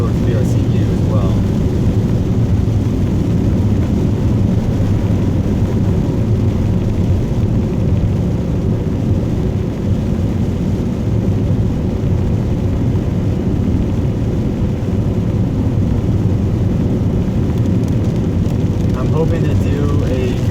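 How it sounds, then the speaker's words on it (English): Inside a moving 1993 Subaru Impreza wagon in the rain, a loud steady roar of road and rain noise fills the cabin continuously, with a low rumble throughout. "now it's going to get louder here with the rain and the road noise still"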